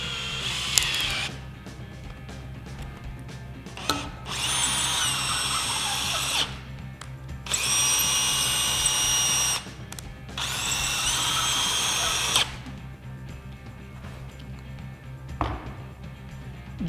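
A power drill drives a GRK Caliburn XL washer head concrete screw into concrete, three loud sustained whirring bursts of a few seconds each separated by short pauses, followed by brief quieter blips near the end.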